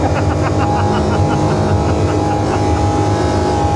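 A Parsun outboard boat engine runs steadily at close range on a sea fishing boat off North Wales, a loud continuous droning hum with a constant pitch that fills the whole stretch.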